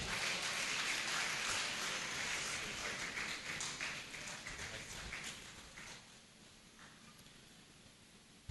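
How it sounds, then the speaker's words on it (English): An audience at a Catholic archdiocese education summit claps to welcome the chairman, a dense sustained wash of applause that gradually thins and fades away. "Please let us clap him forward."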